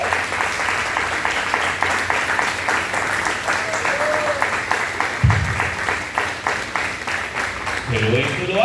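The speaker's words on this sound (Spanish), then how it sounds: "dale un aplauso a Cristo si lo crees." Congregation applause at an evangelical church service, a steady wash of clapping lasting several seconds, fairly loud, with a voice speaking over it toward the end.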